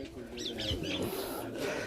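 Pigeons in a rooftop loft coo softly a few times, with soft low calls over light background noise.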